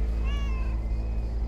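A cat meows in the video game Lake, a single rising-and-falling call heard clearly over a steady low background hum.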